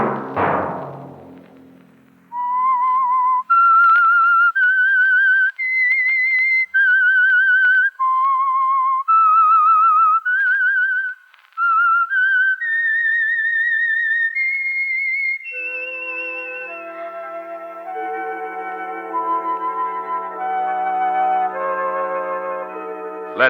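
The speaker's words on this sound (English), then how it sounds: "Let that whistle be your signal for the Signal Oil program" A clear, solo whistled melody of sustained notes from an old radio mystery program, followed by a brief orchestral passage with layered instruments.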